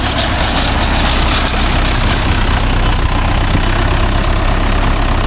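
A Mahindra Yuvo Tech Plus 585 4WD tractor engine runs loud and close at a steady idle, its continuous diesel chug and knock filling the whole stretch without any talking.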